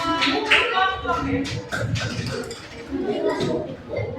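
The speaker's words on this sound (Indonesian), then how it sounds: "Tepuk tangan buat kelompok." Students in a classroom clap for a group after its presentation, a lively patter of many hands close by, steady for several seconds with voices chattering underneath.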